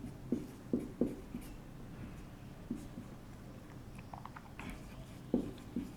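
Pen scratching across paper during a Hindi geography lesson, short quiet strokes in irregular bursts, close and faint with no talk over it.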